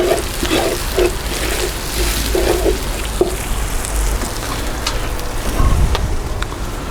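Patak's mild curry paste frying in a pan, giving a constant loud crackling sizzle like rain on a surface, with a few soft clinks and a stir near the end.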